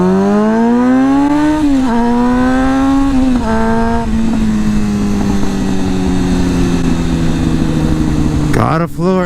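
A motorcycle engine revs up through gears at wide-open throttle, rising pitch climbing and dropping with each shift, loud and close, then settling into a long steady drone before a sharp burst near the end.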